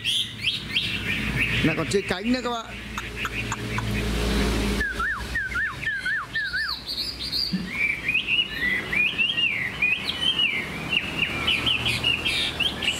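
A caged pure-bred hwamei songbird with a fanned tail sings loudly and close, pouring out rapid trills and sharp repeated whistled phrases, while someone talks over parts of the song.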